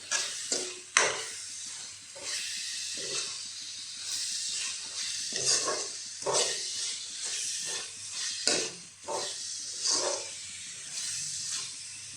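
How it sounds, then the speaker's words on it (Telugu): Chili powder being stirred into a taro curry in a pan: intermittent scraping spoon strokes over a soft background sizzle, fairly quiet and close, with no voices. "ఇప్పుడు దీన్ని కూడా బాగా కలుపుకొని మిక్స్ చేసుకోవాలి, మొత్తం అందుట్లో కారం కలిసేలా."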